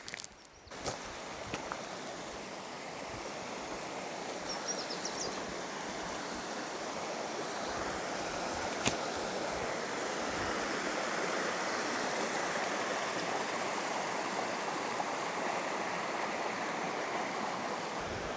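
Waterfall and stream in Shenandoah, a steady broadband rush of falling and flowing water holding constant throughout, fairly close, with a few faint rustles or footsteps at the start and no talking.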